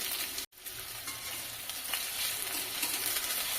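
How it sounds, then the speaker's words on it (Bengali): Sliced onion frying in hot mustard oil, a steady broadband sizzle and crackle that runs throughout after a brief gap near the start, with no voices. "ব্রাউন করে একটু ভেজে নিচ্ছি"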